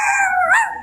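Chihuahua dog giving a short, close howl, a single sustained wavering tone lasting under a second, loud and clear with no talking over it.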